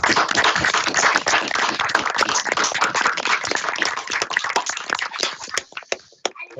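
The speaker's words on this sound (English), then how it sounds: "we'll attempt to give you a round of applause" Virtual round of applause from many unmuted microphones at a Colin Pillinger event, a dense crackle of individual claps from several remote participants that thins out and trails off near the end.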